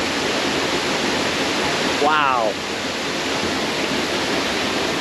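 Steady broadband roar of a waterfall seen from behind the falling water on the Trail of Ten Falls in Silver Falls State Park, continuous and close throughout, with a brief spoken exclamation near the middle.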